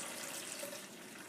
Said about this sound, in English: So first you need to pour a little bit less than halfway in this bottle or jar.